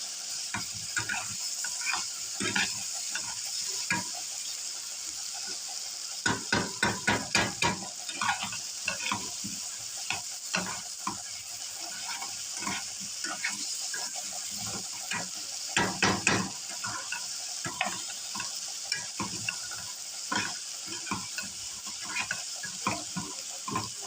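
Garlic sautéing in oil in a home kitchen pan as part of a boiled potato dish, a steady close sizzle broken by repeated scraping stir strokes that come in quick clustered bursts.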